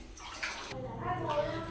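Water gushing from a broken tap at home, a steady splashing flow that continues throughout, with a brief shift partway and faint background voices.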